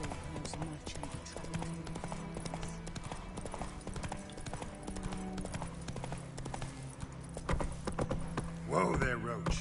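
Hooves of Geralt's horse Roach clip-clop along a road in The Witcher 3: Wild Hunt, a steady rhythmic trot under game music and ambience, with a brief burst of other sound near the end.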